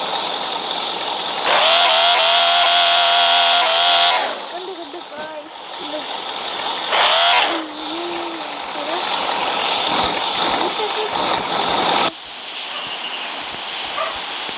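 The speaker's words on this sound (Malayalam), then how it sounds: "ഈ കാറിൻ്റെ പേര് ഔഡി Q7 എന്നാണ്. ഇതിന് സൗണ്ട് നിങ്ങൾക്ക് കാണിച്ചു തരാം." An Audi Q7 engine in a car-selling simulator game revs in loud sustained bursts, holding steady then dropping back to a lower idle hum, with several surges across the stretch.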